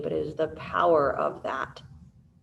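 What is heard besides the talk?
No everyday noises stand out.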